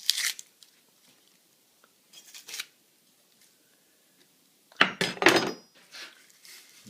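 An onion is peeled by hand from top to bottom, giving brief dry crackling and tearing bursts of papery skin separated by quiet pauses, close and fairly soft.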